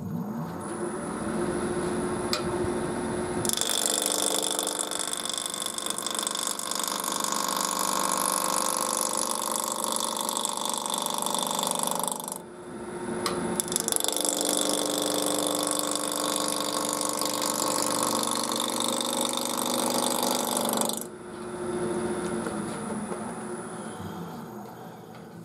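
Wood turning on a lathe with a roughing gouge, a continuous loud whirring hiss of the spinning blank with a cutting rasp, briefly dropping out twice mid-way, no voices.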